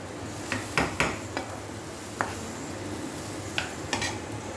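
Rice for Bengali polao being fried and stirred in a pan, with a few sharp clinks and scrapes of a spoon against the metal over a low, steady sizzle, close up and without talk.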